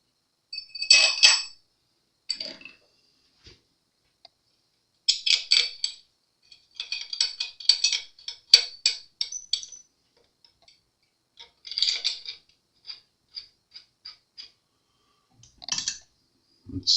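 A screw is driven into a shim in short bursts of ratcheting clicks from a driver, close by, separated by quiet pauses, with no voices.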